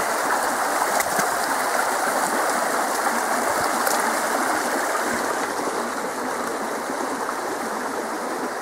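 A stream runs out of the mouth of a small cave, a steady and full rushing wash of water that stays close and constant with no voices.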